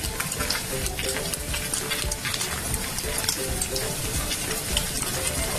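Garlic frying in hot coconut oil for a Kerala-style beef fry, a steady dense sizzle with stirring and faint scraping throughout, fairly close and even in level, with no talk.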